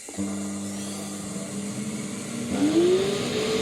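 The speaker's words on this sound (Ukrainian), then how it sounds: "Ще одна проблема двигун пилососа." A secondhand vacuum cleaner motor with an overly loud fault hums steadily with a droning tone, then its pitch rises as it spins up louder near the end.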